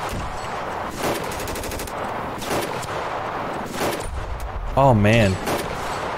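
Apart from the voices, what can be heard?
SCAR semi-automatic rifle gunfire in video game Ravenfield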